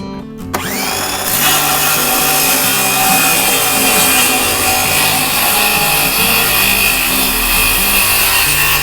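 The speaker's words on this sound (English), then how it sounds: "Usually I wouldn't do it with a handsaw" Wood being cut, a continuous loud rasping, grinding cut that runs steadily for about eight seconds after a short knock at the start, with a high whining tone throughout, sounding more like a power saw than slow hand strokes.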